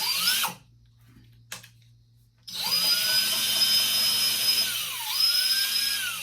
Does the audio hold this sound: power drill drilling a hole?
yes